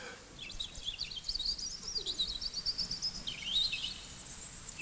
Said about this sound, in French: Écoutez bien une alouette.